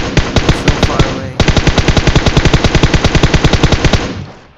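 Rapid automatic gunfire in PUBG Mobile on the Miramar desert map: a loud, close burst that pauses briefly and resumes as a longer sustained stream of evenly spaced shots before fading.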